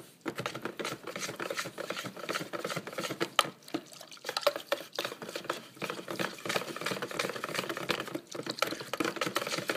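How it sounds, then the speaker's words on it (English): Rice flour batter for Vietnamese steamed rice cakes (banh bo) is stirred in a bowl with continuous soft swishing and quick utensil clicks against the sides, close and moderately quiet. "Just continue stirring until like all of the solid is turned into a liquid."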